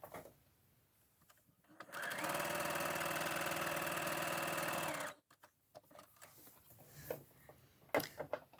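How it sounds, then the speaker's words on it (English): An overlocker runs a steady three-second burst of test stitching on French terry fabric, a loud, even mechanical whir that stops abruptly, with quiet handling sounds before and after. "it's good to do some test stitching before you sew your French terry into its final garment"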